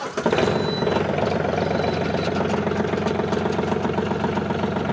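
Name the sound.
Mahindra Oja 2130 tractor engine idling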